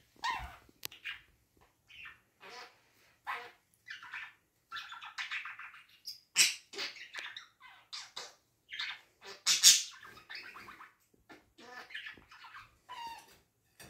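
A pet budgerigar chirps and squawks in a rapid, irregular series of short bright calls, fairly close and alone, with no talking over it.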